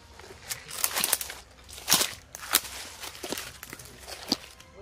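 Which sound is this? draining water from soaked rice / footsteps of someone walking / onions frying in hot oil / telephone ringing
footsteps of someone walking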